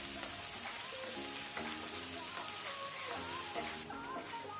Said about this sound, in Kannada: ಇದೀಗ ಹೈ ಫ್ಲೇಮಲ್ಲೇ ನಾವು ಇದನ್ನು ಸ್ವಲ್ಪ ಫ್ರೈ ಮಾಡ್ಕೊಳ್ಳುವ.